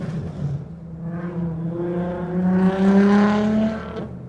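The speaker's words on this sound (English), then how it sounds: "I hate them cars." Cars pass along a street in Tucson, a steady engine drone that swells and fades as a vehicle rolls by, rising to a louder peak near the middle before easing off.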